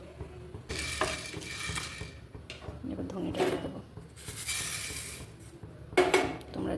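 Metal scrapes and clinks against a pan in several bursts as spices for garlic mango pickle are stirred, with a voice talking between and over the clatter.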